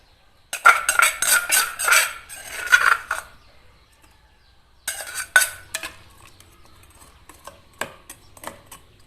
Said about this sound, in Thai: ตำพริกแห้งพี่น้อง